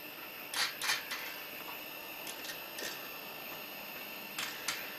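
Nuts being threaded onto the bolts of a Little Devil TV antenna, faint small metallic clicks and taps in scattered clusters, close by with nobody talking.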